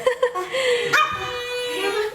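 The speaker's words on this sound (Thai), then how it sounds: "น้องก็เห่าเก่งมากๆเลยค่ะ" A small dog yaps in several sharp, close barks with a whimpering yip in between, loud and near, while a person speaks softly in the background.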